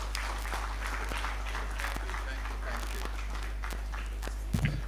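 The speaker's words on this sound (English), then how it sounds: "let's keep the applause going" Applause from an audience at a policy conference on anticorruption in Nigeria, a moderate, even patter of clapping held under a steady low hum, with a brief bump of handling noise near the end.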